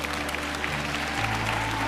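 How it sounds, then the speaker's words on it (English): Applause from a crowd at a motivational talk, a steady dense patter of many clapping hands heard evenly at a moderate distance, with a low hum running beneath. "somebody ought to clap on that"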